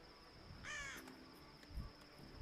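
A crow in the video game Tomb Raider gives a single harsh caw over a low ambient background, followed by faint game rumbles.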